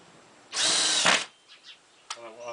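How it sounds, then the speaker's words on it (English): A power drill drives screws into a wooden bed frame for a restored Shasta trailer, with one loud, steady whirring burst of about a second, then a few faint knocks and a softer mechanical rattle. "take our screws and screw it together"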